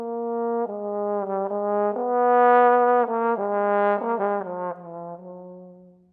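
A tenor trombone plays a legato etude passage using alternate slide positions, a warm, smooth, connected line of notes rising and falling, played solo and close.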